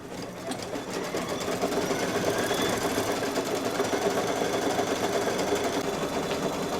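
A single-needle embroidery machine stitches a pinwheel design, running at a steady, continuous whir with rapid needle clatter throughout, close and fairly loud with no talking.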